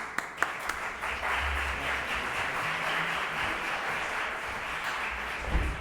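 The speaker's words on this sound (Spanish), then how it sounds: "Un aplauso." A conference audience at a physiotherapy lecture in Málaga gives a sustained round of applause, a steady even wash of clapping that holds for several seconds at a modest, slightly distant level.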